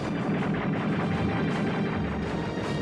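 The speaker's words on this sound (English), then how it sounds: "German anti-aircraft guns opened fire" German anti-aircraft guns firing at night over France as C-47 transports cross overhead, a dense continuous barrage of distant booming and crackling fire with no clear gaps between shots.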